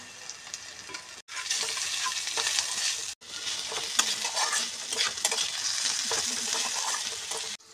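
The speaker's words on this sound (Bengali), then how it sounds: "বেগুনগুলোকে ভালো করে ভেজে নেব।" Brinjal pieces fry in a pan with green chillies and are stirred, giving a steady crackling sizzle broken by two brief pauses, with occasional utensil scrapes and no talking.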